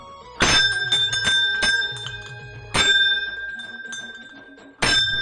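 A temple bell beside a tulsi chaura is struck three times at a temple, each ringing strike loud and bright with a long metallic decay between hits.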